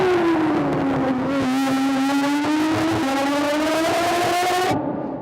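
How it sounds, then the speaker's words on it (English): An Aston Martin Vulcan's V12 revs hard and loud, its steady roaring drone climbing in pitch before cutting off sharply near the end. "And when your Mondeo engines sound like this..."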